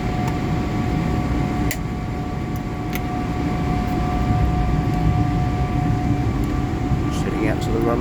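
Airliner cabin on a flight from Singapore Changi to Paris, taxiing out to the runway: a steady droning hum of engines and air systems with faint tonal whines and occasional light clicks, while a person speaks quietly nearby.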